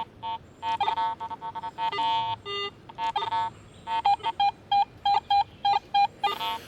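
A Garrett AT Pro metal detector sounds mid-tone target signals: a run of short, bright electronic beeps, loose and irregular at first, then settling into an even, steady pulse of clear repeated tones.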